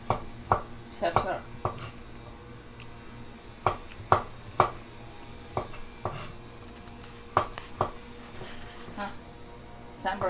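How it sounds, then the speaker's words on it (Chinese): A kitchen knife chops food into fine shreds on a cutting board while preparing eggplant bean-sauce noodles, giving irregular sharp close taps with short pauses, over faint room noise. "再切细丝儿"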